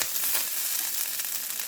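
Butter sizzles and crackles steadily in a hot skillet being prepared for quesadillas, a dense, even frying hiss that carries loud and unbroken with no voices over it.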